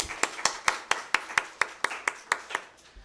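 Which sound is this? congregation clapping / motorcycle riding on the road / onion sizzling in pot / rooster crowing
congregation clapping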